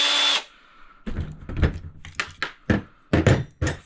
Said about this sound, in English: we're gonna speed this up with a drill